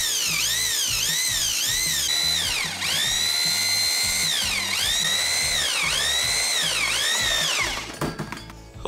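A power drill bores holes to fix the base of a Scheppach drill press to a table, its motor whining loud and close in repeated rising and falling bursts that stop briefly between holes.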